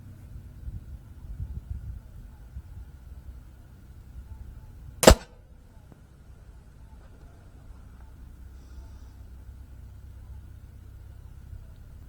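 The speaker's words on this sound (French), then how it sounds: "On va continuer de tirer, peut-être que les plombs lui vont pas." A single sharp shot from an Umarex IWI Mini Uzi airgun firing pellets, one loud crack standing alone in the middle of a quiet, low rumbling background.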